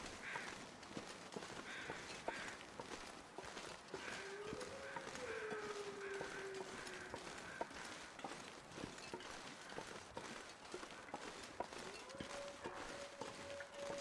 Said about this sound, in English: Crow fly over? Here are the crows.